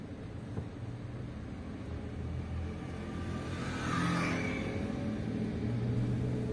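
A manual car rolls along slowly, its engine a steady low rumble that swells slightly as it eases toward a smooth stop under gentle braking, with no talk over it.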